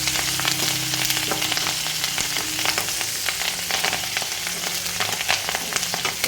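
Coriander leaves, curry leaves and tomato frying in hot oil for tomato chutney, a steady loud sizzle with crackling pops and occasional stirring scrapes, close up and uninterrupted by talk.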